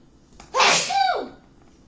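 A single explosive sneeze up close, a loud burst of breath with a falling vocal tail, then silence.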